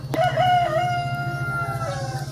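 Rhode Island Red chickens in a backyard: a single close rooster crow rings out over a steady low drone, with faint clucking behind it.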